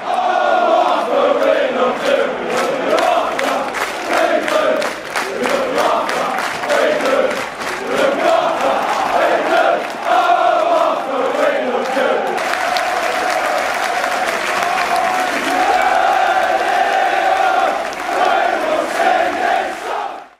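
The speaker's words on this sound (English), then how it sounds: "Applause rang out at packed stadiums across the country as supporters came together to remember Arthur Labinjo-Hughes" A packed football stadium crowd applauding together in tribute to Arthur Labinjo-Hughes, sustained loud rhythmic clapping from thousands of fans with scattered shouts, steady for the whole stretch.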